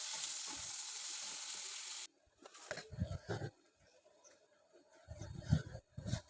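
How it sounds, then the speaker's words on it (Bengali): Onion and potato sizzle loudly in a hot pan for homemade chow mein, a steady fry for two seconds, then quieter crackling broken by bursts of stirring and scraping. "পেঁয়াজ আলুটা লাল লাল করে ভেজে নিয়েছি।"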